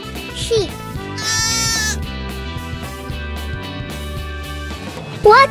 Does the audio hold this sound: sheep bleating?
yes